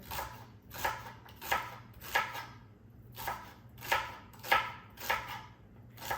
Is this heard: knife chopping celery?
yes